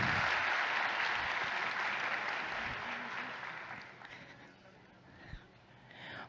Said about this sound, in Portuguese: eu quero que vocês batam uma salva de palmas para ele